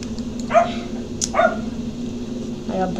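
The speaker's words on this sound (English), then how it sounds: "I have a dog." A dog barks three times in short, sharp bursts, spaced about a second apart and fairly close, over a steady background hum with some voice nearby.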